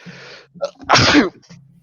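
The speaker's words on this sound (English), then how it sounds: "Like a sneeze." One loud, close human sneeze bursts out after a short intake of breath, with faint room noise before and after.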